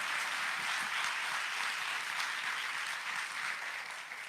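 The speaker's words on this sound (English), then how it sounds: "I want to ask a big round of applause for you guys" An audience at a startup demo day breaks into sustained applause, a dense, even wash of many hands clapping that holds steady before easing slightly.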